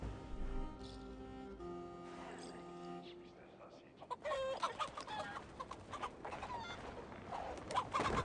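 Chickens clucking in the video game Assassin's Creed Valhalla, repeated bursts of cackling heard alongside talking, with game music early on.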